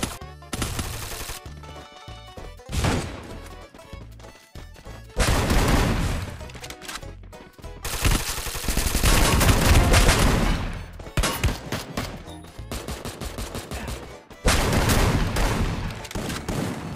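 Rapid bursts of gunfire in the video game Free Fire crackle and boom in dense volleys, with automatic fire and loud blasts continuing nearly nonstop.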